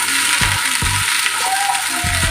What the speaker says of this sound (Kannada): ಈಗ 1 ಚಮಚ ಆಗುವಷ್ಟು ಎಣ್ಣೆನ ಹಾಕೊಳ್ತೇನೆ. ಇದನ್ನು ಹುರ್ಕೊಳ್ತೇನೆ.